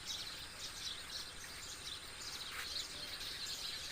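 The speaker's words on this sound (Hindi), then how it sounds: "चिड़ियाँ आम जो हाउस पैरोज जो होती हैं हमारी" House sparrows chirp from a tree in a steady, dense chatter of overlapping calls, with faint insect-like buzzing underneath and no speech.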